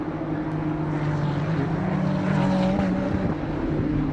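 A Ferrari Challenge race car at Sebring, on Pirelli tyres, powers out of a corner. A steady, droning engine note holds fairly loud throughout, with a slight rise midway.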